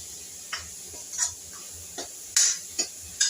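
Spoon scraping and stirring through a hot pan as jaggery is mixed into the filling for ukadiche modak, several distinct clinks and scrapes spaced irregularly over a soft background sizzle.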